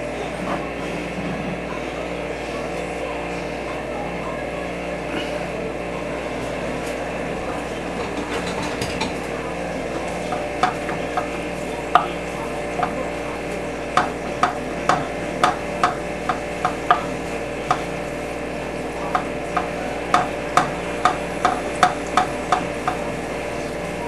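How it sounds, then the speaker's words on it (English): Steady hissing sizzle of thinly sliced capicola crisping in a hot pan, close by, with sharp crackling pops growing more frequent in the second half. "Pan's nice and hot, sizzling."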